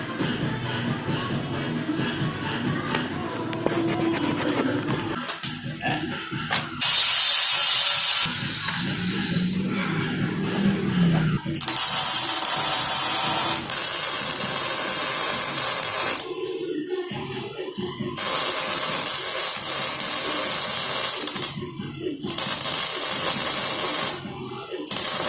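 Welding a fabricated steel angle onto an IKEA rear rack on a C90 motorcycle, several long loud crackling, hissing bursts with short breaks, following quieter handling noise.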